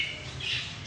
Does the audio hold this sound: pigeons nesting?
yes